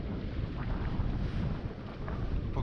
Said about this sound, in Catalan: Anem a vela. Amb un vent de 10 nusos